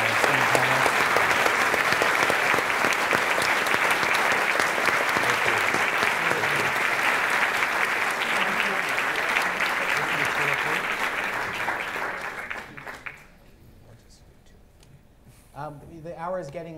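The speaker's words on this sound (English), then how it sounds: "please join me in giving a warm, warm round of applause to our esteemed panelists" A warm round of applause from an audience for panelists at a university event, dense and loud clapping sustained for about twelve seconds before fading out, followed by a few quieter sounds.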